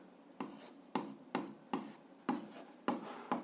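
Pen strokes on paper while an algebra solution is written out, a soft, close scratching broken into about six short, evenly paced bursts with quiet pauses between them.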